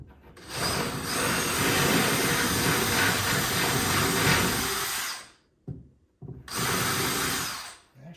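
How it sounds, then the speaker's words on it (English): A power drill boring a 5/16 inch hole upward through cabinetry to fit an under-cabinet LED light strip, a loud steady whine running about five seconds, then a brief stop and a short second burst. "So I'll just drill it up this way this time."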